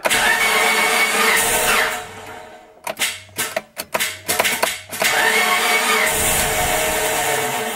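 A 2004 Mitsubishi Lancer Ralliart engine cranks in several short bursts without firing, a whirring starter churn that stops and repeats, set between stretches of steady loud background noise.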